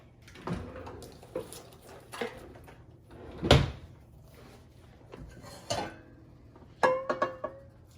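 A covered pan of oxtail goes into an oven and the door shuts, heard as several scattered knocks and clunks of metal and cookware, one louder thud near the middle and sharper rattles toward the end, with no talking.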